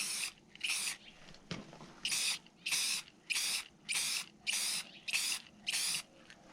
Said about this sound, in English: we're just going to go ahead and spray some clear coat across here.